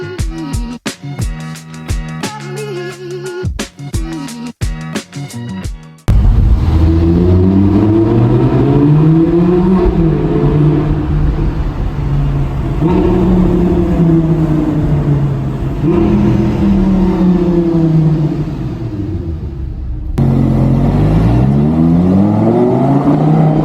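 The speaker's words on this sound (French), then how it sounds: "à cause des valves fermées, comme elles sont fermées et qu'il y a trop d'air qui arrive dans la sortie d'échappement, bah, ça fait juste beaucoup plus de bruit" A tuned Audi R8 V10 roars loudly through a tunnel with its exhaust valves closed, giving rising and falling engine revs and booming echoes after a short run of sharp blips. The revving stretches over about twenty seconds and drops away briefly near the end.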